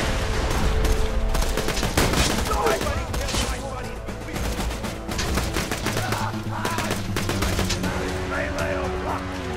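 Rapid gunfire from Borderlands 2, dense bursts of shots nearly continuous and loud, with game music and effects layered underneath.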